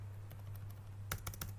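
A password is typed on a computer keyboard: after faint, scattered key taps, a quick burst of several crisp, close keystrokes follows, with a low steady hum underneath.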